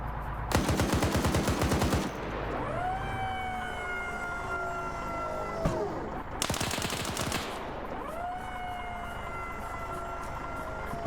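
A machine gun firing in the video game Arma 3, two long bursts of rapid automatic fire separated by a gap and each followed by ringing echoes, heard loud and close with no talk.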